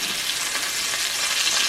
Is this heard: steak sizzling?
yes